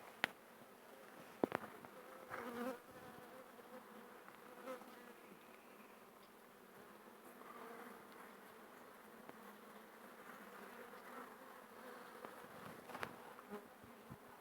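Honeybees buzz in a steady, close drone at an open hive during an inspection in the Nevşehir region, with a few faint knocks and clicks and no talking.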